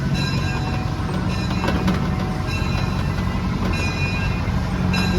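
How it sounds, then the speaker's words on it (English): Small amusement park train ride at Dorney Park rumbling along with a steady mechanical drone, a few tonal squeals and clanks, close by and continuous. "cute little train ride here."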